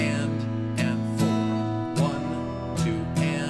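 Acoustic guitar strummed in a steady basic pattern, chords ringing with sharp down and up strokes at about five-per-measure spacing, close and clear with no voice over it.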